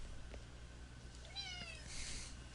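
A cat gives a short meow, faint and somewhat distant, over a quiet room hum.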